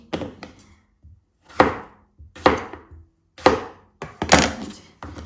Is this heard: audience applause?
no